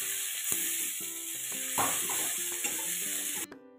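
A spoon stirs fenugreek and vegetables frying in a pan, with steady sizzling throughout and regular scraping strokes about twice a second, close up, ending abruptly.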